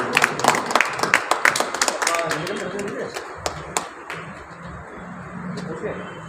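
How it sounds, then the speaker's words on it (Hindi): Applause from the audience at a political party's fourth foundation day celebration: sharp, scattered hand claps over the first few seconds that thin out, with someone speaking throughout. "जोरदार तालियां।"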